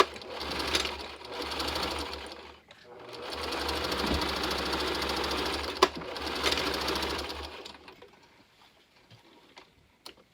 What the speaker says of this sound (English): fold it this way and that way, and then sew both of these edges.